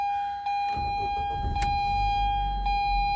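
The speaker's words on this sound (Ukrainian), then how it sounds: "Давайте заведемо наш автомобіль." A steady electronic chime hums before the engine of a 2012 ZAZ Lanos running on gas/petrol cranks and catches, settling into a low idling rumble.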